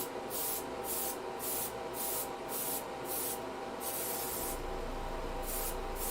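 An airbrush hisses in repeated short bursts of spray, steady and close, with brief pauses between each puff.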